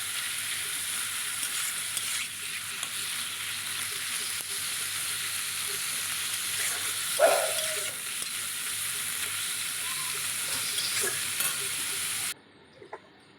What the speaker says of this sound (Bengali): আবারও মাংসের টুকরোগুলো আমি ঠিক এইভাবে ভেজে নেব খুব বেশি ভাজবো না হালকা ভাজবো